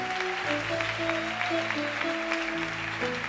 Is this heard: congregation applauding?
yes